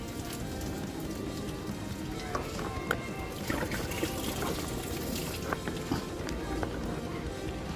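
Water drains steadily from a radiator hose on a Kia Carens during a coolant flush, making a continuous splashing trickle with small irregular spatters, close and fairly loud throughout.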